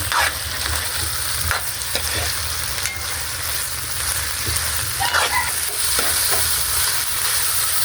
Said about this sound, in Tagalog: haluin na po natin